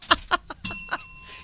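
A bicycle bell rings several times in quick succession, bright metallic dings followed by a lingering ring that fades away.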